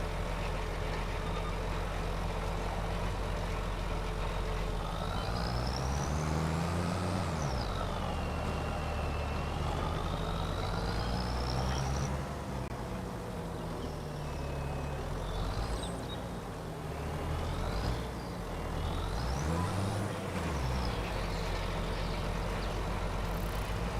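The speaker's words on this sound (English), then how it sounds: "it bogged down the tractor pretty good" A tractor engine labours and bogs down while working dirt on a cold day, its low rumble rising and sagging in repeated heavy surges that stay steady and close throughout.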